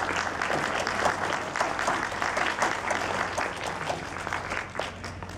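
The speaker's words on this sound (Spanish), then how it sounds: "Así que voy a pedir en lo particular que le demos un abrazo, un aplauso acá a Carlos González." Audience at a book fair presentation applauding, steady mid-distance clapping with scattered sharper claps, continuous across the whole stretch at moderate volume.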